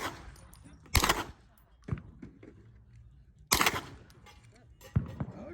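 Gunshots at an outdoor shooting range, a few loud sharp single reports spaced seconds apart with quieter pops in between, near and distinct.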